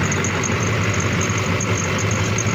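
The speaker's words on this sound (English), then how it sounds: "got it running. Got a little belt squeal to it as well" A Duramax diesel engine idles steadily up close with a constant low rumble, and a thin, high belt squeal from a bad pulley rides continuously over it, the whole sound unbroken and loud.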